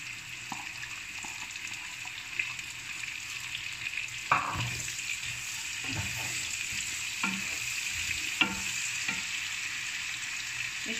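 Onions frying in oil in a pan, a steady soft sizzle with intermittent scraping knocks of a spoon stirring, close and fairly quiet.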